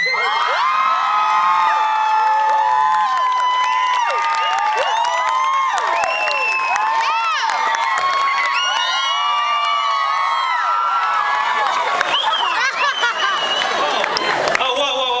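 Large crowd cheering and shouting loudly and continuously, with high-pitched whoops, screams and scattered applause throughout.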